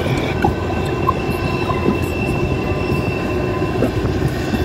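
Kalka–Shimla toy train rumbling steadily through a mountain tunnel, a dense continuous roar of wheels and carriages with faint metallic squeals, no voices.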